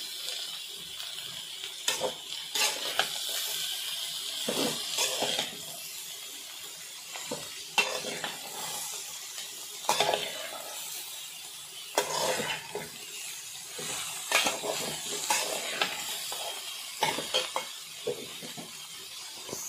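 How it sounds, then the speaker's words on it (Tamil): Shredded cabbage and egg fry in a little oil, giving a continuous soft sizzle broken by repeated scraping and clinking of a spoon against the pan throughout. Nobody speaks. "தண்ணியெலாம் விடக்கூடாது இந்த எண்ணெயிலே நம்ம வந்து வதக்கிக்கணும்"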